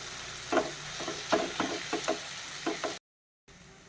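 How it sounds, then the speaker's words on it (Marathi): Carrots and other vegetables are stirred in a hot pan with chili, a spatula scraping in a series of quick rhythmic strokes over a soft, steady sizzle, close and fairly quiet, with a brief dropout near the end. "व्यवस्थित परतून घेते आता सगळं."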